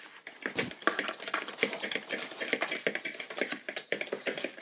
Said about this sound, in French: tu mélanges bien les deux maintenant avec la fourchette